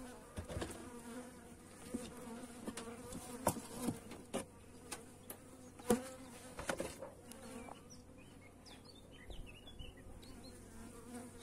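Honeybees swarm around an opened beehive, a quiet, steady hum with individual insects droning past the listener and occasional soft knocks and handling noises.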